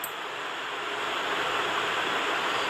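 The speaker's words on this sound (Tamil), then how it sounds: "இப்போ தண்ணி நல்லா கொதிச்சிருச்சு பாருங்கள்." Water at a rolling boil in a pot for Malabar (Thalasseri) chicken biryani, a steady broadband bubbling hiss held close and constant, with no talking over it.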